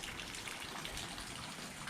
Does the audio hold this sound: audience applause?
no